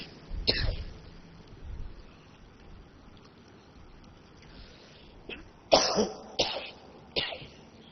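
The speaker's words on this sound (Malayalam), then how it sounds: "ചെറിയൊരു ചുമണ്ട്." A man giving a Quran class coughs and clears his throat in several short bursts, one early and a cluster near the end, close to the microphone in an otherwise quiet room.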